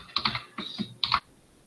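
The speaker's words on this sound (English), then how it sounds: "We can hear him typing though." Computer keyboard typing comes through a remote meeting connection in three short bursts of quick, close key clicks separated by brief pauses, with no voices.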